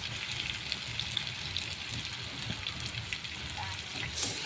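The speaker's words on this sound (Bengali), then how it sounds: "আমি এখানে নুন আর লবণ দিয়ে ভালো করে কষিয়ে নিচ্ছি।" Egg mixture with onion, salt and turmeric frying in a pan, giving a steady close sizzle with soft crackle throughout and no speech.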